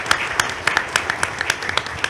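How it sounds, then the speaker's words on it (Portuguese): Scattered hand claps from a seminar audience at the close of an intellectual property conference session, a sparse run of separate claps at a steady moderate level with no talking. "pediria uma salva de palmas para todos"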